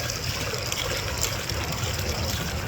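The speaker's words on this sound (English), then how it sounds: "That doesn't mean I'm not above using a fountain" Water splashes and trickles steadily from a public fountain outdoors, a continuous broadband wash heard close up with no voices.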